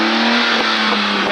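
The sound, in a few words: BMW 328i engine revving through exhaust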